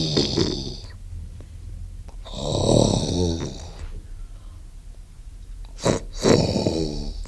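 A voice imitating a monster's snoring as a sound effect at a community celebration: three long, rasping, throaty snore-like bursts with pauses between, close and fairly loud, with no other sounds.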